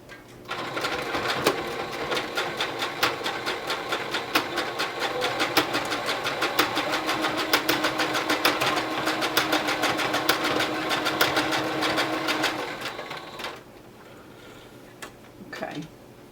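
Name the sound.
sewing machine stitching pleats in a mask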